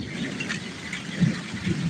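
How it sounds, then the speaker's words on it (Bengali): Heavy rain pours outside on a dark night, a steady, dense hiss of water falling on surfaces with no voices, filling the whole moment evenly. "প্রচুর বৃষ্টি বাইরে"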